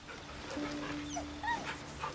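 A dog in the fantasy video game Baldur's Gate III whimpers softly, with several thin, high whines rising and falling over a quiet game background.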